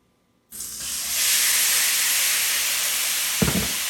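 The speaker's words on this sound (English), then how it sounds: "The last part of the Spaetzle is finishing it in a skillet with some butter" Spaetzle hits hot butter in a skillet and bursts into a loud, steady sizzling hiss that holds without a break. A brief dull knock from the pan comes near the end.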